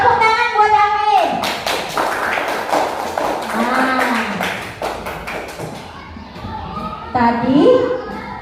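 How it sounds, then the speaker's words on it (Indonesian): Children in a classroom clap together in a brief burst of quick, close hand claps, with young voices talking and calling out before and after. "Tepuk tangan buat Amin."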